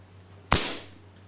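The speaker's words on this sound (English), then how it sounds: "the first shot will be without the silencer" A single sharp, loud gunshot-like crack from a Crosman CO2 air pistol fired without a silencer, with a short ringing tail fading in a quiet room.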